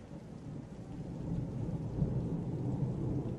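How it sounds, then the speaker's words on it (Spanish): Steady rain hisses with a low, rolling rumble of thunder in a video game, a continuous dense wash that swells slightly midway, with no voices. "Se escucha cómo está lloviendo en el juego."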